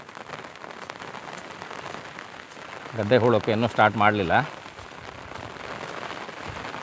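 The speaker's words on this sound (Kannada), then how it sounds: "ಮಳೆ ಸ್ವಲ್ಪ ಜೋರೇ ಬರ್ತಾಯಿದೆ." Rain falls steadily in the Malnad countryside, a constant close hiss that continues under a man's brief speech.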